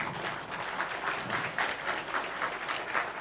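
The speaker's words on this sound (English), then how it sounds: "Let us remain standing and give him a proper round of applause" A standing audience at the National Pastoralists Conference 2024 at a hotel in Isiolo gives sustained, even applause, a dense wash of clapping that holds at a steady level throughout.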